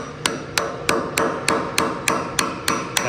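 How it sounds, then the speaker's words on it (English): A hammer drives a screwdriver against steel shims to tap them into place at the base of a two-post car lift being installed, sounding as ten sharp, evenly spaced metallic strikes at close range. "now we're just going to take a screwdriver and a hammer,"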